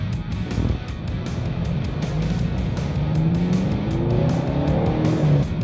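A BMW E46, its turbo vacuum line just repaired, accelerates hard on a test drive, the engine note rising steadily in pitch under a loud, close, continuous drone with rhythmic rattly pulses.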